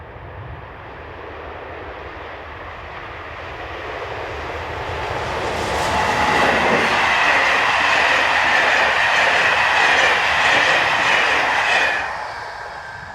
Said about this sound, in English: 15012 is the next loco to come into view, powering the 1836 from Paris.